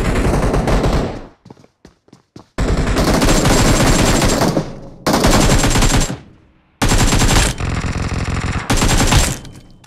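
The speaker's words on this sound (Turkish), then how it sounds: "acayip çatışmalar var her yerde" Bursts of rapid automatic gunfire in a video game firefight, loud and close, broken by short pauses and scattered single shots, with battle noise filling the gaps.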